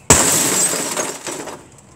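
A huge rock smashes into a CRT television, giving a sudden loud crash of shattering glass followed by a brief tinkling, crunching spray of debris that fades out within about a second and a half.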